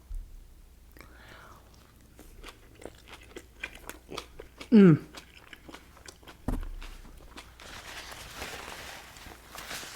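Biting into and chewing a homemade taco salad with romaine, avocado, tomatoes, ground beef, beans, cheese and cilantro, one loud crunchy bite midway among softer, close chewing sounds.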